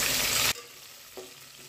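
Okra and eggplant sauté in a pan for a South Indian tamarind curry with black-eyed peas, opening with a loud, dense sizzle for half a second before dropping to a faint, soft crackle with a small stir-like bump.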